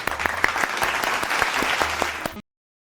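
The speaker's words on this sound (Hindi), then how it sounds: "तालियां।" A studio audience on a talk show claps in a dense, lively burst for over two seconds, then stops abruptly into silence.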